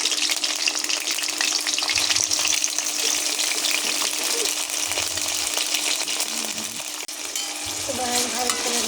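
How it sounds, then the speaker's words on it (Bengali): Sliced onion rings frying in a pan, a dense continuous sizzle with occasional scraping stirs, close and steady throughout, no talking. "পেঁয়াজ লাল লাল করে ভাজা হয়ে গেছে।"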